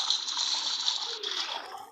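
Splashing, rushing water in the Roblox game Brookhaven, a steady broadband wash that holds for about two seconds before thinning out, with no speech over it.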